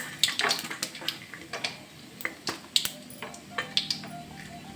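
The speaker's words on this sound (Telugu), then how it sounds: "పల్లీలు వేసుకున్నాను" Peanuts frying in hot oil for a tempering of flattened-rice poha give off sharp, scattered crackles and pops, close and fairly quiet, with no talking.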